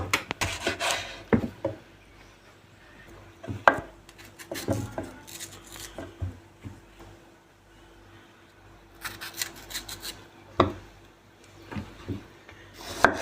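A knife slices tomatoes on a board, a series of irregular chopping and slicing taps with soft rubbing in between, close up, no talking.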